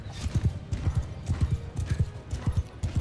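In Mount & Blade II Bannerlord, horse hooves clip-clop in a steady, brisk rhythm of close, thudding beats, repeating evenly throughout over faint battlefield ambience.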